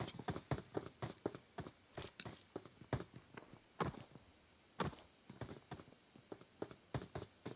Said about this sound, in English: So they hear the footsteps.